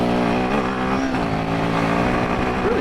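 A Royal Enfield Himalayan 450 engine revs hard while being ridden off-road, with a loud continuous drone that climbs and dips in pitch as the throttle is worked and the revs rise near the end.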